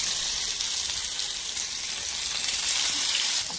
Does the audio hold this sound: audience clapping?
no